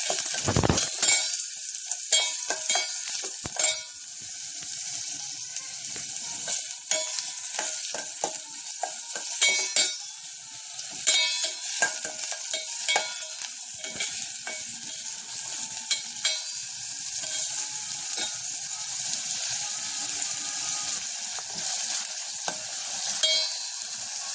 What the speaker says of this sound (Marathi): कांदा मात्र आपल्याला चांगला भाजून घ्यायचा आहे, कारण तो मग कच्चा कच्चा लागतो.